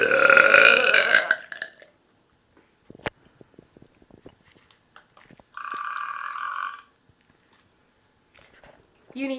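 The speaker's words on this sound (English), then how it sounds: "we're gonna have a burp off, and you are going to decide who is the best burper" Two contestants trade loud, drawn-out burps in a burping contest. A long croaking belch opens, a second comes midway, and a short one closes, with quiet clicks and mouth noises in the near-silent gaps between.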